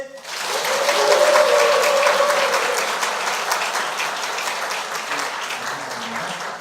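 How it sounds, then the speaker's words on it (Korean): A church congregation applauds at a cake cutting, the clapping swelling quickly and then holding as a sustained, full round that slowly eases off. "우리 강서 가족들 다시 한번 함께 박수로 축하해 주시면 좋겠습니다"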